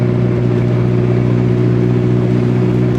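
An abandoned Geo Tracker, neglected for years, runs and drives with a steady, loud, close engine drone and deep harmonic hum, holding an even pitch throughout with no voices.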